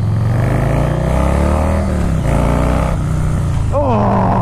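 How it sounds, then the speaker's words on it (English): A Harley-Davidson motorcycle with a 110 engine roars during a ride, a loud, close, throaty drone that climbs and drops in pitch as the rider shifts and throttles up, with a voice over part of it. "Oh, I mean, listen to that engine roar."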